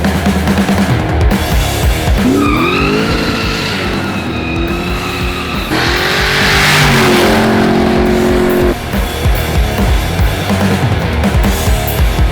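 A Buick Regal Grand National holds a sustained loud burnout, its engine revving and rising in pitch over continuous harsh tire squeal and roar.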